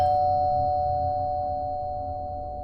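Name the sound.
doorbell ringing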